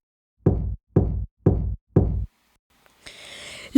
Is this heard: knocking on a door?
yes